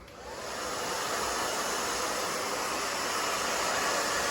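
A hair dryer roars up to full power and blows a steady, loud, close rush of air while drying a freshly moussed pixie cut.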